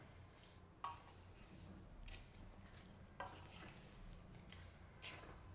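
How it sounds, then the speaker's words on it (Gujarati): Ragi ladoo mixture being stirred in a pan, a faint close scraping of a spoon repeated in slow strokes about every second or two, with a light sizzle underneath. "આ બધું મિક્સ કરી લઉં એકદમ."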